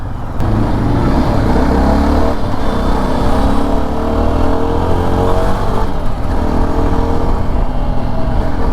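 A Yezdi Adventure motorcycle engine pulling hard on the road, a loud continuous engine drone rising in pitch with wind rush, heard alone without speech.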